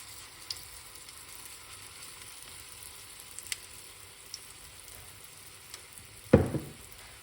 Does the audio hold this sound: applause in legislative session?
no